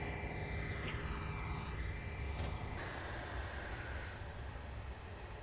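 Train engine noise in Train Simulator on the Chiltern Main Line, a steady low rumble and drone of a train whipping along at speed, fairly quiet and continuous with a brief tonal whine, no speech.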